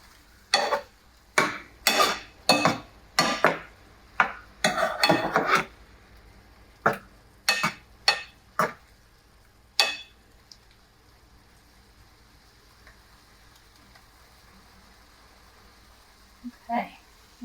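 Shrimp stirred in a pan for shrimp tacos, a run of sharp wooden-spoon scrapes and clacks in quick bursts, close and fairly loud, then easing off to quiet sizzling with a couple of faint taps near the end.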